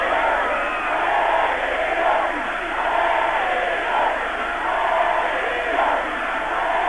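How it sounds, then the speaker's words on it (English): A big stadium crowd at a 1986 rugby test match between the French Barbarians and New Zealand roars in rolling, rhythmic swells, a dense, sustained chant-like cheer rising and easing every second or so. "the crowd really starting to get behind the local side now"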